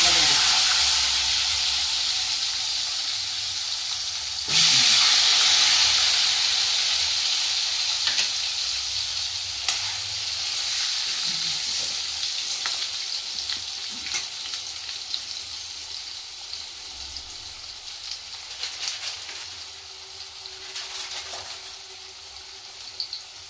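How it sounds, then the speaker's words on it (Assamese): Potatoes fry in hot oil seasoned with turmeric, masala and chili powder: a loud, steady sizzle with a sharp flare of spitting around the fifth second, easing slowly afterward, with no talking. "আলুটো ভাজি ল'ব আগতে।"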